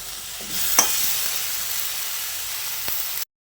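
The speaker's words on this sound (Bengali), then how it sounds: "এবার বেগুনটা দিয়ে আবারও সব কিছু একসঙ্গে ভালো করে মিশিয়ে নিচ্ছি।" Soft brinjal being stirred into a simmering pan for a fish-oil curry, a steady sizzle with a couple of sharp spoon scrapes before it cuts off.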